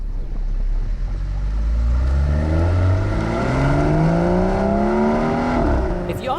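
A BMW X3 M40i engine snarls as it accelerates hard through its 8-speed automatic, the rising harmonics sweeping upward in steady, loud, continuous pulls with a brief shift dip near the end.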